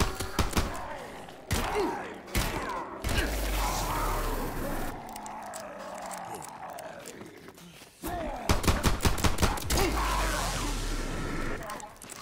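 Pistol fire in a game with shields, sharp shots cracking in quick bursts near the start and again later, with thuds and loud game effects between.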